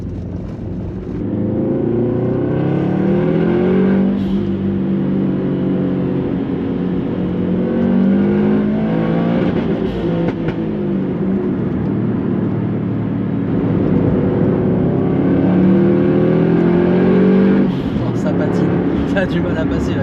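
Subaru WRX STI engine pulling hard in its sportiest drive mode, rising in pitch through two long acceleration runs with a gear change between, loud and close under the cabin, while people talk over it.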